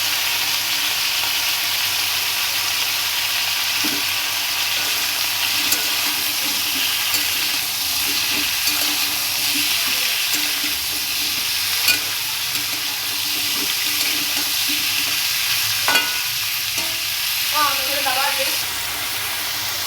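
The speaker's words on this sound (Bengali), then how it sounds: "কড়াইতে তেজপাতা দিয়ে নিয়ে নিচ্ছি পটলগুলো কাটা পটলগুলো দিয়ে দেবো" Chopped pointed gourd frying in hot oil with bay leaf in a wok, a steady broadband sizzle running throughout with occasional soft stirring clinks, close and even in level, with faint speech murmuring underneath.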